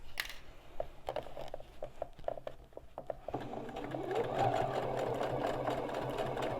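A sewing machine back stitches where a handle passes through on a binding board project, first in a few quiet stop-start bursts, then in a longer, steadier run of stitching, close and soft.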